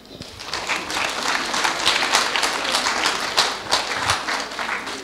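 A training-event audience breaks into dense, sustained applause, many hands clapping together at close range and keeping a steady level for several seconds.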